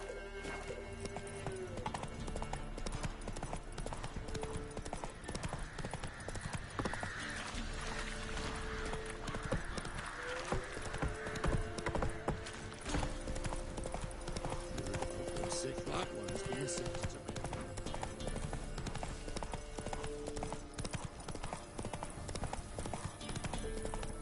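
Horse hooves clip-clopping steadily in the video game Witcher 3, a continuous rhythmic trot with an occasional whinny, mixed under game music and a person talking over it.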